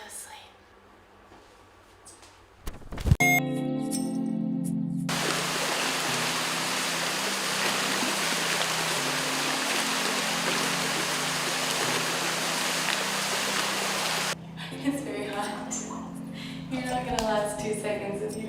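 Shower water running in a small room at Singapore airport, a steady loud hiss pouring for about ten seconds after a knock and a short rattle, with someone talking before and after it.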